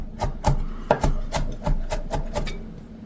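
A knife chops five garlic cloves coarsely on a board in a rapid series of about a dozen crisp close taps.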